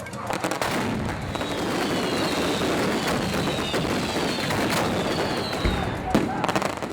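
Fireworks exploding at a festival crack and boom in a dense, continuous barrage of overlapping blasts, loud and close, with occasional whistling rockets streaking through.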